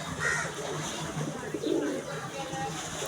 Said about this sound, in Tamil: இதான் நம்ம ரோம புறா